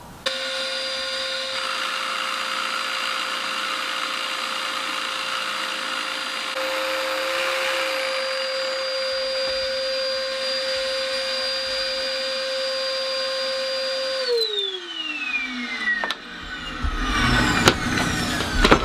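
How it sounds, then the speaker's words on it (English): A power jigsaw cuts pallet wood into a steering wheel shape in a small shed, a loud steady whining buzz that holds for many seconds, then winds down as the tool stops, followed by clattering. "Let's go and get the jigsaw."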